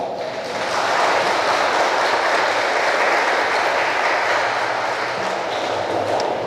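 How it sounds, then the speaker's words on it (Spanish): Wedding guests clap for the newlyweds at a church ceremony in San Agustín Oapan, a thick, continuous round of applause that swells after a brief soft start and stays loud to the end. "Vamos a darles un fuerte aplauso."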